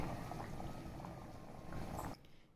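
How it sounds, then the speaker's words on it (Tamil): A pot of chana masala bubbles on the stove, a dense low simmering burble at close range that cuts off abruptly near the end. "இப்போ இது எல்லாமே சேர்ந்து ஒரு 5 மினிட்ஸ் கொதிக்கட்டும்"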